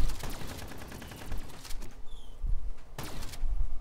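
Fireworks weapon firing in Call of Duty zombies on the Der Eisendrache map, a loud rapid burst of repeated blasts with crackling bursts and whistling launches, near and without talk.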